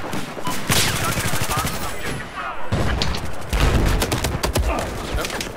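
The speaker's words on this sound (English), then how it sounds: "Oh, I'm getting shot at FB." Dense, continuous automatic gunfire from the video game Battlefield 4, with rapid overlapping bursts and heavier booming shots through the whole stretch, loud and close, with a voice speaking briefly in places.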